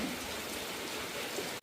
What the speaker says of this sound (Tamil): என்னடா இப்ப போய் மழை பெய்யுது